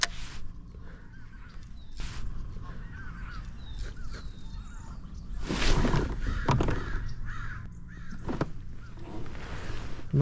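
A flock of crows passes over a kayak on the California Delta, several raspy caws and honking calls scattered at mid distance over open outdoor air, with water or paddle noise swelling briefly in the middle.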